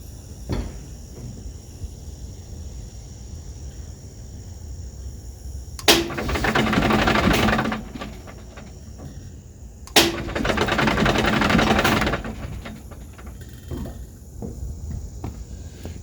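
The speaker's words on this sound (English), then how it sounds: "What we want to do is see if we can rotate the engine right now" Cummins diesel engine cranking over on its starter without firing, two bursts of about two seconds each with quiet pauses between, heard fairly close.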